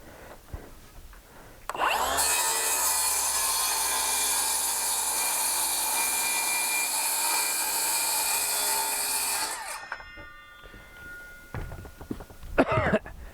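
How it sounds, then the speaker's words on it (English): A power tool cuts through cabinet wood guided by a straight edge, a loud, steady whining cut lasting several seconds that winds down, followed by a few clunks and knocks. "All right, we're going to cut this, 2 cuts."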